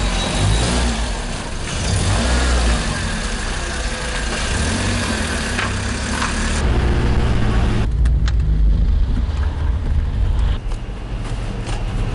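A car driven on an Algerian road speeds up, its engine humming and revving steadily and loudly for the whole stretch, with no voices over it.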